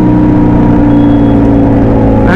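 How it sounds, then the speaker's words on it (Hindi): A Kawasaki Z900 motorcycle engine is very loud and close, with a steady throaty rumble and a slight shift in pitch as the rider drops a gear. "ये लो भाई डाउन शिफ्ट।"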